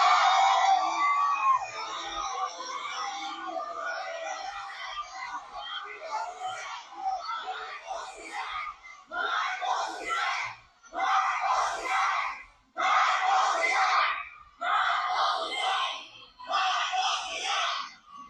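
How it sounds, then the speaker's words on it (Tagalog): A crowd in Davao chants a two-word protest slogan calling for Marcos to resign, starting as a loose mass of shouting voices and settling into loud, regular bursts with brief pauses between them. "Yan yung sigaw ng mga taga Davao."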